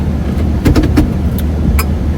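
A 4x4 vehicle starts up on a cold morning, its steady low engine rumble running throughout with a few sharp mechanical clicks and knocks near, no voices.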